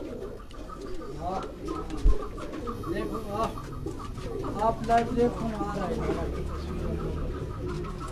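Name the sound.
Tunia pigeons from Sialkot cooing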